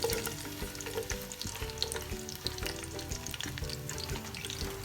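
Onions frying in 200 grams of hot cooking oil for restaurant-style degi biryani, a busy crackling sizzle with stirring, close and steady, with a low hum beneath and no voices.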